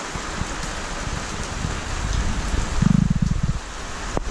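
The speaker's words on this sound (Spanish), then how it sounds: "Está lloviendo." Rain falling steadily outdoors in Australia early in the morning, a soft continuous patter with a brief louder burst of drops near the end, no voices.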